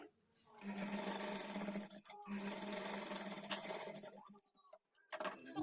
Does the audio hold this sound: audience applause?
no